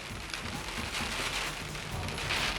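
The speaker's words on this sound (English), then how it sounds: "We're going to be driving into the rain." Heavy rain drums on a moving car during a supercell squall, a dense steady hiss and patter close around the cabin.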